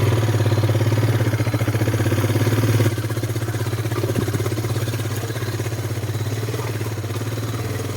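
A motorcycle engine runs steadily on a road, a loud, close, rhythmic putter with a clattering pulse that drops slightly in level partway through and keeps chugging evenly with no voices over it.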